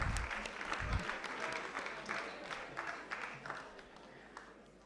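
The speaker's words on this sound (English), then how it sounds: "Let's have a huge round of applause for Mr. 247." A conference audience at an institute's 45th anniversary event breaks into applause, a dense wash of many hands clapping at moderate distance that gradually thins and fades over a few seconds.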